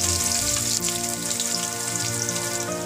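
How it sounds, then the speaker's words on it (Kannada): Whole spices frying in hot ghee and oil for a South Indian methi pulao, a loud, steady, dense crackling sizzle close by that keeps up without a break, with no voices. "ಎಣ್ಣೆ ಬಿಸಿಯಾಗಿದೆ, ಮಸಾಲೆ ಐಟಮ್ಸ್ ಹಾಕೊಂಡಿದ್ದೀನಿ, ಅದೊಂದು ಸ್ವಲ್ಪ ಹುರ್ಕೊಳ್ಳೋಣ"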